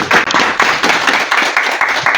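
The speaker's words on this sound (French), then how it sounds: "Il veut demander d'applaudir encore très très fort." An audience at a Paris press conference claps loudly, the applause coming in uneven surges with brief dips, close and dense, with no talking over it.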